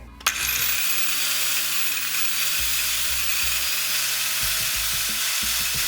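A Vitals 1271TG mini circular saw switches on with a click and spins up to a steady, high, whining hum that holds without pause.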